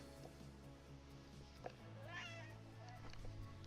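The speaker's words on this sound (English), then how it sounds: "this is my cat, Missy." An indoor house cat gives a single clear meow partway through, close by, over a low steady room hum.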